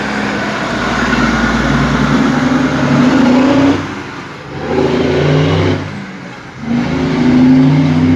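An International Prostar truck with a Cummins ISX engine roars loudly close by, its engine brake blatting in repeated surges that drop away and return across several seconds, with no talk.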